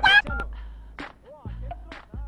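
A telephone rings in short electronic bursts while people talk nearby.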